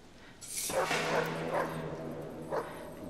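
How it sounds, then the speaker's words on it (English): A dog in the Hidden Agenda video game barks and yelps several times, close and fairly loud, with a whimpering tone between the barks. "Dog."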